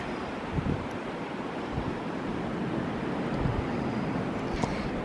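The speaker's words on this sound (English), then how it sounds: "I wish you could just hear the waves." Ocean waves wash onto a shore on a mild January day, a continuous soft rushing surf mixed with wind noise on the microphone, fairly faint and with no voices.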